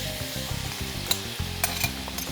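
Chopped onions frying in a hot pan for a summer dish in an Algerian home kitchen, a steady close sizzle broken by several scraping stirs of a spoon, with no talking.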